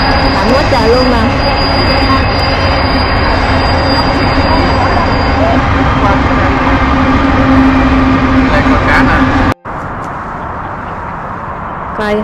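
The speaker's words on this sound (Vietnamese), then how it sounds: "xe lửa chạy gì lâu dữ vậy" A long train rumbles past near the Cowlitz River in Washington during smelt dipping, a loud steady roar with squealing wheels and rattling cars that cuts off abruptly near the end, with voices mixed in.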